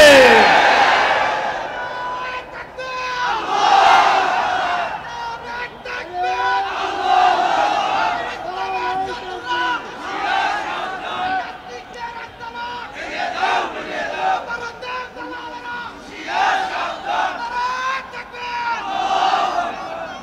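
A large crowd at a religious rally chants Nara-e-Takbir, Allahu Akbar, as a leader calls the slogan and many voices roar back in loud, repeated waves for the whole stretch.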